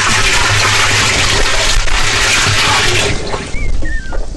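Steady, loud rush of water being poured into a drum to mix a green chilli and garlic spray, a continuous splashing flow that carries on throughout with no talk over it.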